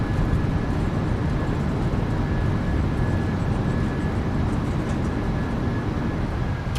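Thrust reversers roaring on a simulated PMDG 737-800 as it decelerates after landing, a steady dense rumble holding at constant level throughout with no talking.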